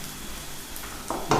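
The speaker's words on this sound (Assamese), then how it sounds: "এনেকৈ ভাজি মাৰি দিম মছলাখিনি" Spices with meat masala frying in a pan for Assamese jackfruit seed curry: a soft, quiet sizzle that swells into a sharper crackle near the end, with no talking.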